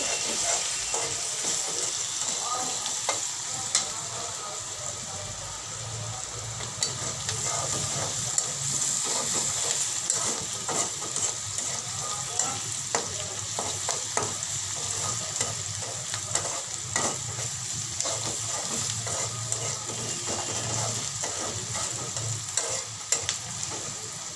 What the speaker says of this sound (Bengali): এখন পেঁয়াজটা ভাজা হয়ে গেছে